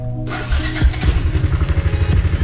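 A Big Red 200ES engine with a newly replaced carburetor cranks and fires up, then settles into a loud, quick, rhythmic putter that runs steadily to the end.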